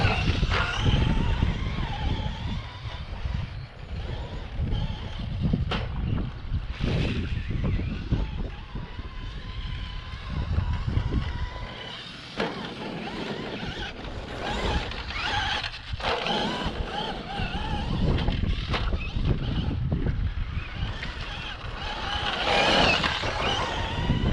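A Traxxas Stampede 3606 RC truck runs on a track, its small electric motor whining steadily and shifting in pitch as it accelerates and turns, with wind buffeting the microphone throughout.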